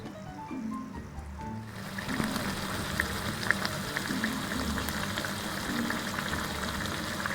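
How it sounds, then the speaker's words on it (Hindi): Chicken pieces fry on high heat in a pan, a steady bubbling sizzle that starts subdued and swells to a fuller, constant hiss after the first couple of seconds, with no one speaking. "अब हम इसको 5 मिनट तेज़ आंच पे भूनेंगे।"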